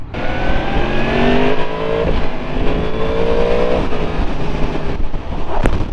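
A 2023 Yamaha MT10 motorcycle pulls hard through the gears, its engine note climbing in steady rising sweeps with a brief dip at each shift, loud and close over constant wind rush.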